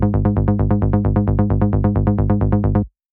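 With every effect bypassed, a dry Serum mid bass repeats quick, even sixteenth-note plucks for about three seconds, then stops sharply. The tone is raw and dense, the level loud and steady, and nothing plays over it.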